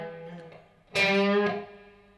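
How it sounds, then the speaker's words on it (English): An electric guitar rings out with a bright, distorted strum, its notes hanging and washing out in a lingering reverb tail from the amp. "you hear the reverb on my amp filling that gap"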